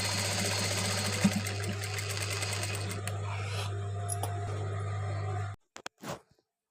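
A sewing machine runs steadily, stitching side cuts on a dress, a loud continuous hum with rapid needle chatter that stops abruptly near the end, followed by a few faint handling noises.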